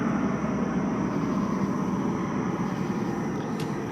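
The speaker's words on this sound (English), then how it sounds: "I have to stop when a plane comes over" A steady, broad airplane roar passing overhead, loud and unbroken for a few seconds with no talking.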